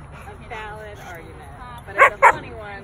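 A young Belgian Malinois gives two sharp barks close by after softer whimpering yips, with people talking quietly in the background.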